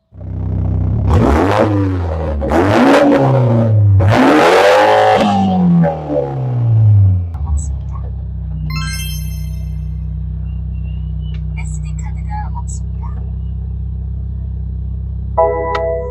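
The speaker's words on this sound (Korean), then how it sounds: "이게 배기 튜닝 되어 있는 차량이어서 배기 소리 한번 들어보시죠" A BMW Z4 20i convertible with a tuned exhaust is revved hard three times, each loud rise and fall close by, then settles into a steady low idle rumble.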